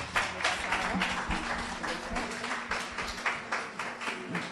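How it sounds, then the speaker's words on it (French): Audience applauding at a pan-African education colloquium on a Sunday afternoon, a sustained patter of many clapping hands heard from within the hall, fairly even and moderately loud. "Madame Lauriette Chantal, sur vos applaudissements"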